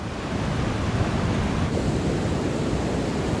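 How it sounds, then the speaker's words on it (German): Heavy surf from a stormy Pacific Ocean on the Costa Rican coast near Manuel Antonio National Park, a steady broadband roar of breaking waves with gusty wind, loud and continuous throughout, with no voices. "Oder doch besser gesagt, der stürmische Ozean."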